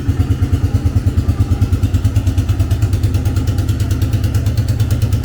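A 1987 Suzuki LT300E ATV engine running close by, a loud, even, rapid thumping idle with a steady rhythmic beat throughout.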